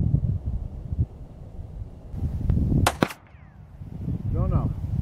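Sharp gunshot cracks from a High Standard .22 pistol at an outdoor shooting range, one loud report standing out above steady wind noise on the microphone, with a faint whistle-like sound after it.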